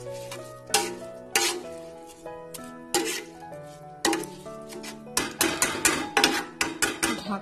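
Gobindobhog rice khichuri being stirred in a metal pot, the spoon striking the rim in ringing metallic clanks, spaced at first and then quickening into a rapid run of knocks; no voices.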